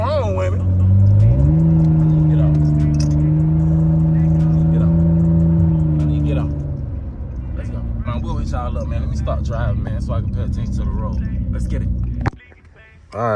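A car's engine hums steadily from inside the cabin while driving on the road, with a rising then falling tone, a loud voice speaking over it and music-like tones in the background.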